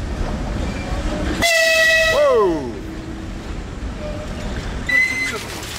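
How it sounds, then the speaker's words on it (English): A loud train horn blasts and bends downward in pitch over a steady rumble of rolling rail cars on a train to Azerbaijan, followed by a shorter, fainter horn toot. "It's not every day you take a train to Azerbaijan"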